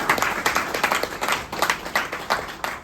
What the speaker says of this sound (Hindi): तो एक जोरदार तालियां हो जाए हमारे चतुर सर के लिए